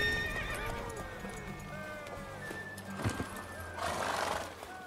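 Horse neighing with repeated whinny calls and clip-clopping hooves in The Witcher 3, fairly close and clear over a low ambient bed, with a brief louder burst near the end.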